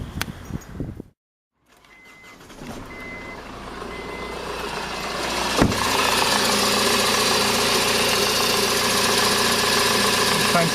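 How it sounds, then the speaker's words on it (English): A Honda Civic MK8 engine idles with its accessory belt running, a steady, fairly loud mechanical hum with a rough, noisy edge that continues after a brief pause near the start. "right now, I'm just going to show you what it sounds like with a belt running"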